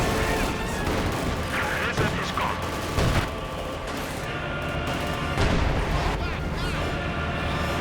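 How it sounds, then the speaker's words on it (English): Artillery and gunfire from the video game Company of Heroes 2, a dense barrage of booms, bursts and crackling shots under continuous fast commentary. "And lots of artillery just flying everywhere."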